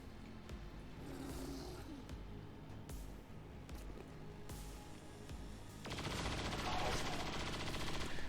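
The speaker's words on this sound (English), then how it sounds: "Incoming fire!" Bursts of automatic gunfire from XCOM 2: Long War of the Chosen fill a busy battle mix, with heavier, denser firing in the final seconds.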